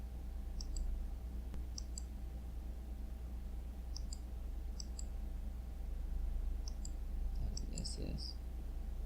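A computer mouse clicks sharply in paired taps, about six clicks spaced a second or so apart, faint over a steady electrical hum, with a brief soft murmur near the end.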